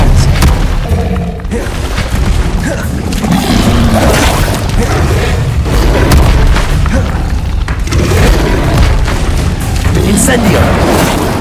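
Booming spell blasts and bursts from combat in the video game Hogwarts Legacy, dense and loud throughout, with repeated impacts layered over a busy game soundscape.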